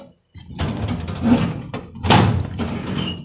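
A drawer slides open and shuts with two rough, scraping runs and a sharp knock between them, loud and close by, with no talk.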